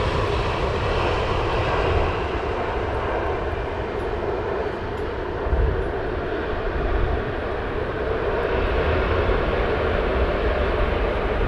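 A Singapore Airlines airliner at London Heathrow Airport gives off a loud, steady jet-engine roar, close by and continuous for the whole stretch, with no voices over it.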